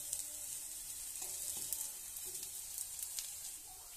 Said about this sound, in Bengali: বড়া ভাজা হয়ে গেছে প্রায়